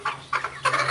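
Cornish chicken giving a few quick clucking calls, three short close bursts in under a second, alone without talk.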